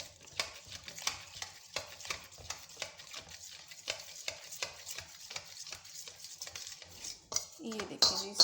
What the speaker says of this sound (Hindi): खूब अच्छे तरीके से मिक्स करेंगे।